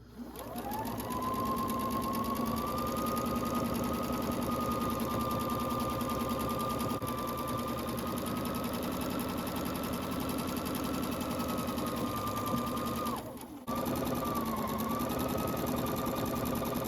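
A sewing machine quilting flannel rag quilt squares runs in one long steady whirring stretch close by, with a brief stop near the end before it starts up again.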